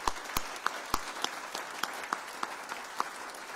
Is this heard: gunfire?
no